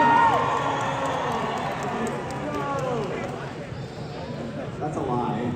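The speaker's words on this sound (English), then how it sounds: "Everyone cheer for Parrot X2." A large audience at a VidCon panel cheers and shouts loudly and continuously, a dense roar of voices that swells at the start and stays strong throughout.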